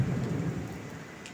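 Heavy rain with thunder pouring over a hillside near Tadepalli and Mangalagiri, heard as a steady dense roar with a low rumble, near and fairly loud, with no voices.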